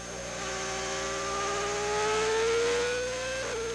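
A racing car at Estoril, revving to around 14,000 RPM, accelerates hard with a high, whining engine note that climbs steadily before a quick gear change drops the pitch near the end, heard close and loud.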